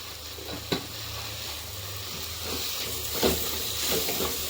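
A pan of food sautéed with a teaspoon of black pepper powder gives off a steady, loud sizzle and hiss, with occasional soft stirring scrapes and no talking.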